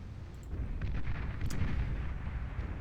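Naval destroyers in the Beyond All Reason strategy game shell tidal generators, producing a continuous rumble of distant artillery booms with a few sharper cracks layered through the battle noise.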